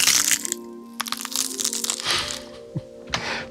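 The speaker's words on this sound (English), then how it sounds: "Now for the texture, we did the bones breaking." Bones-breaking sound effect without a low-pass filter, made of sharp cracks and crunchy snaps with brittle crinkling texture, close, dry and bright, in a short burst of several hits.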